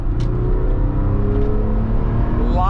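A 2008 Porsche 911 997 C4 convertible with a 4.0L engine and six-speed manual drives along at a steady, loud pace, its deep engine drone holding constant. A brief rising whine comes near the end.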